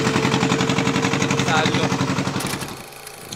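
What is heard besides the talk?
fishing boat engine running after being started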